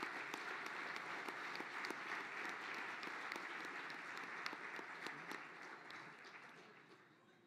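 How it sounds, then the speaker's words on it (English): Guests at an engineering excellence gala dinner applaud, a sustained crowd clapping with distinct individual claps standing out, fairly faint and slowly tapering toward the end. "Please join me in giving a huge round of applause."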